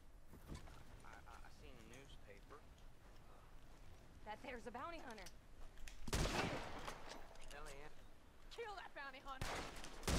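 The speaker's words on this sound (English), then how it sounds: "he is actually shooting at me" Gunfire in the video game Red Dead Redemption II: a couple of sharp, loud shots break in among background game sounds, while someone talks over most of it.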